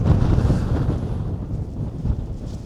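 Strong wind at the North Cape, Norway, buffets the microphone in a steady, heavy low rumble with gusty swells, no voices.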